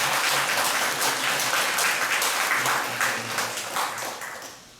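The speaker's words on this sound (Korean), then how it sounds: "우리 큰 박수로 환영합니다" Church congregation gives a loud, sustained round of applause during a worship service, dense clapping filling the room before slowly tapering off.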